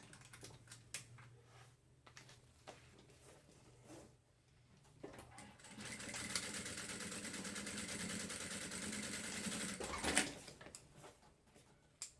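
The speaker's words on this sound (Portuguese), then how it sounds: "Só vou vir com mais uma costura aqui, somente para garantir." Sewing machine running a reinforcing seam on a thermal lunch bag with a 3D pocket, a steady mechanical whir for several seconds after scattered handling clicks and taps, with no talking.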